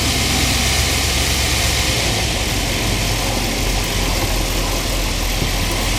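Inside a 1980 GMC van with a 350 engine, a deep, steady engine drone fills the cabin as it sets off, loud and constant with broad road and motor noise and no voices.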